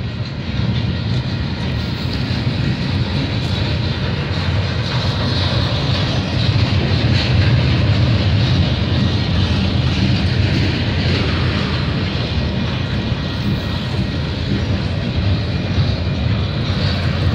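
A long CN/CP freight train of regular gondola cars rolls past near Milton, Ontario, early on a Saturday morning, a steady loud broadband rumble and rattle sustained throughout with no let-up.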